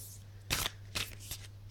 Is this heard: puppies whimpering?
no